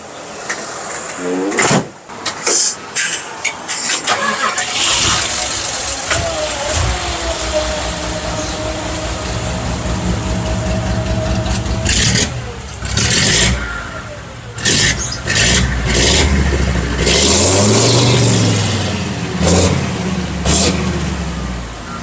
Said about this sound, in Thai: เสียงเครื่องดุมาก ลองฟังเสียงสโลเขานะครับ